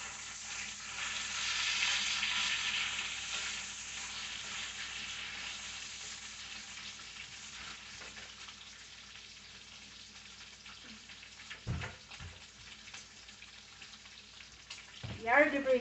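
Bacon frying in a pan gives a soft, continuous sizzling crackle that slowly fades, then a couple of brief sharp clatters and louder crackles near the end.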